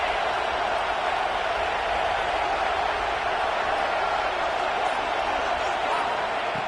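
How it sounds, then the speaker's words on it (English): A packed stadium crowd at a Georgia football game, loud and continuous, a broad roar building as fans push the defense near the goal line. "here comes the noise. This crowd is trying to inspire this defense to make a big red zone stop"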